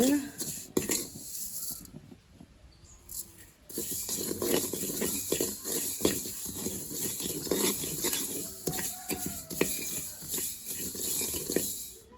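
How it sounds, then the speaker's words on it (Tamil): Fennel seeds dry-roasting in a pan for a village-style medicinal coffee powder: a hissing, crackling patter with scraping and metal clinks of a utensil, and a person talking over the sound. "பெருஞ்சீரம் போட்டு வறுக்க போகிறேன் பாருங்கோ பாருங்கோ வறுவட்டு கொண்டு வருகுது"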